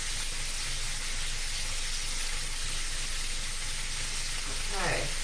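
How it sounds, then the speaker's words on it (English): Risotto sizzles in extra virgin olive oil, a dense continuous hiss of frying with a faint scrape of stirring toward the end, steady and fairly loud. "Keep stirring that risotto."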